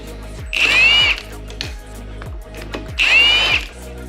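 A power tool whirs in two short bursts while loosening bolts on a Kawasaki KZ900 motorcycle engine, loud and close, with a steady rhythmic ticking between the bursts.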